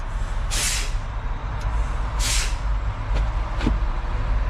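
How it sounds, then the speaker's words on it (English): Air brakes on a truck are pumped during an in-cab inspection, producing two strong bursts of hissing air release and a couple of lighter clicks over a constant idling engine rumble. "I'm going to pump the brakes to get it below 90"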